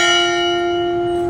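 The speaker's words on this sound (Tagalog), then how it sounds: "Ayan, nagbebel siya." A parish church bell rings automatically on the hour at Our Lady of Guadalupe Parish in General Trias, Cavite, a loud sustained tone with strong ringing overtones that hangs and slowly fades.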